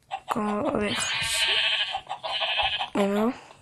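Several Minecraft sheep bleats ring out in quick succession, loud and close, with a sharper bleat at the end, over a faint background.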